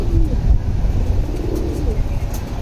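Racing pigeons in a loft coo loudly and close, low throaty murmurs overlapping continuously.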